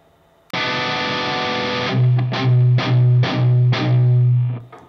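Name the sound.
palm-muted guitar strumming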